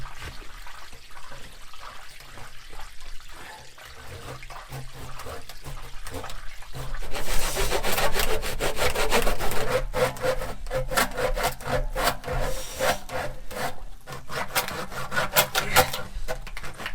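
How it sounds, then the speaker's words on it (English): A hand saw cuts plastic pipes off flush with a concrete floor on a bison farm: quiet scraping at first, then fast, steady back-and-forth strokes, close and loud. "I need to grab a saw and cut those 4 pipes off there and then cut those off."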